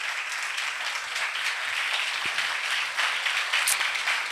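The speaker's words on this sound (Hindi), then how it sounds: "तालियों के साथ, और ऐसी तालियां पहले कभी ना बजी हों। बजाते रहिए जब तक वो आ नहीं जाते स्टेज पे।" A church congregation at a Resurrection Day service claps steadily to welcome the pastor to the stage, a continuous full roar of many hands that grows slightly louder toward the end.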